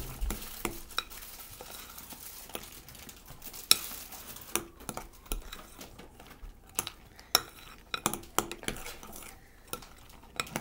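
A dirt cake mixture stirred in a bowl with a utensil, giving repeated scraping clinks and taps against the bowl in an irregular rhythm, close and fairly quiet, with no talking.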